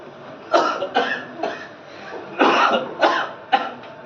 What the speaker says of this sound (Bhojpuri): सबके खांसी उठता जे आवत ते खसता जाता